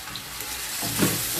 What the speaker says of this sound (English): add my tomatoes